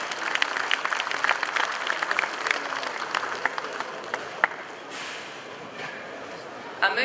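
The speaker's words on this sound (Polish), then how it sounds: "Wielkie brawa!" Applause from spectators at a dairy cattle breeding show ring as a cow is named champion, a moderate spread of clapping that thins and fades, with a brief louder burst near the end.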